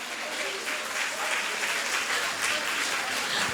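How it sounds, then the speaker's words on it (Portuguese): Church congregation applauding at a lively worship service, a dense, steady wash of clapping filling the space for the full stretch without letting up. "Aplauda Jesus."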